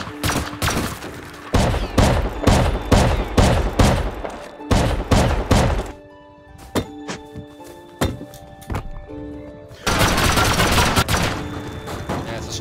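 Repeated loud shotgun blasts in a video game smashing a box, a quick irregular series of heavy booms, then a quieter gap with scattered thuds before another dense burst.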